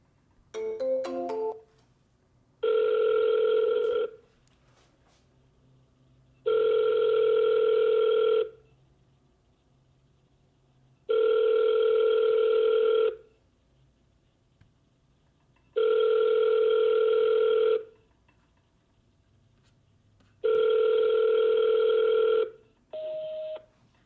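A telephone call ringing out on the line before reaching voicemail: a few quick dialing tones, then five long, steady ringback tones evenly spaced with gaps of silence, clear and close.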